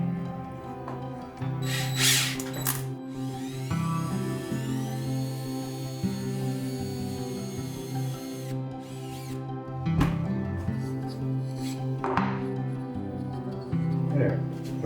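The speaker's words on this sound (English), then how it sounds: "Just have an 1/8 inch drill bit." A power drill with a 1/8 inch bit bores a hole in a wooden spinning top, its motor whining in several bursts that rise and fall in pitch, with short pauses and knocks between them.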